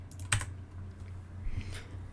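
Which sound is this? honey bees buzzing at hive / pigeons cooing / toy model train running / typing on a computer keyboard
typing on a computer keyboard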